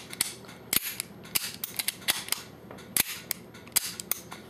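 Airsoft rifle, a Marine Corps edition, firing a rapid string of sharp, snappy shots with an extra magazine. The cracks come in irregular bursts, close and fairly loud, with no talk over them.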